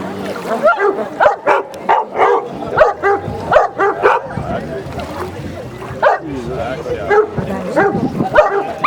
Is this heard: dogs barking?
yes